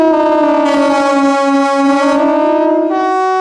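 A KTG-10 siren wails in a steady, loud harmonic tone that swells and holds for several seconds, then steps up slightly in pitch near the end, with no talking.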